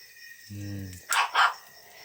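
A dog barks twice in quick succession, short sharp yaps close by, preceded by a low humming voice-like tone in an otherwise quiet room.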